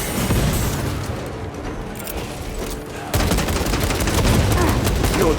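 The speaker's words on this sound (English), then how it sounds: "Frag grenade out." A frag grenade detonates in Warhammer 40,000: Space Marine 2, a loud boom landing around the three-second mark amid dense, continuous gunfire and battle noise.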